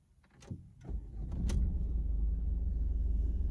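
A Ford Focus 1.5 TDCi diesel with automatic Powershift gearbox cranks briefly and fires up, then settles into a steady, low, rumbling diesel idle heard from inside the car with the window partly lowered.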